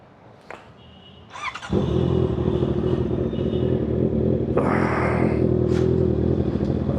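A Honda CBR650R motorcycle engine fires up and holds a loud, steady running note close by, with a brief clatter before it starts and a slight swell partway through; no one speaks.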